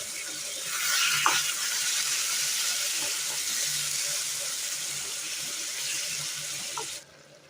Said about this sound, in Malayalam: ഒരൽപ്പം കൂടി ചൂടുവെള്ളം ഒഴിച്ചു കൊടുക്കാം.